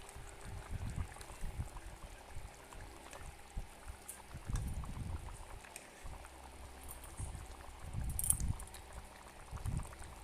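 Thin rohu fish and bottle gourd curry gravy simmers in a pot, with low bubbling bursts that rise and fall in uneven pulses, faint and close, over a quiet background hiss.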